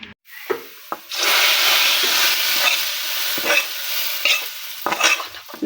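Onion and chili sizzle and hiss in a hot pan for lentil dal, with a steady loud frying crackle broken by scraping stirs and utensil knocks against the pan.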